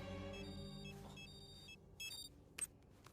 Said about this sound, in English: Awkward time for a phone call, man.